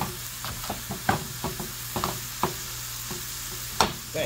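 A spatula chops up pasta and broccoli sizzling in a frying pan, with a dozen or so sharp, irregular taps and scrapes over a constant close frying hiss, no talk.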